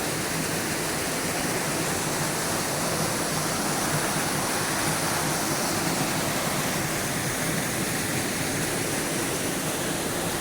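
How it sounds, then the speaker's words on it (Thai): Bo Wi waterfall's first tier roars as a dense, steady, loud rush of falling water, continuous and unbroken with no voices. "อันนี้ชั้นแรกครับน้ำตกชั้นแรก"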